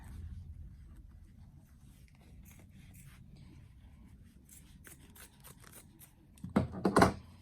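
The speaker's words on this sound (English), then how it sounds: "So I've got to cut off a little bit extra here." Scissors cut through fabric to trim a pocket flap for shorts, with quiet snipping through most of the clip and a louder burst of crisp, close cuts near the end.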